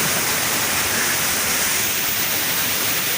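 Pangyan Falls in Davao Oriental pours as a constant, dense rush of falling water, steady and fairly loud, with no voices over it.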